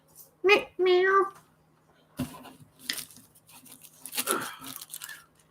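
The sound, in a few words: cat meowing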